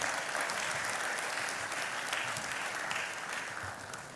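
A crowd at a business school graduation ceremony gives a speaker a round of applause, with thick, even clapping throughout that fades a little near the close.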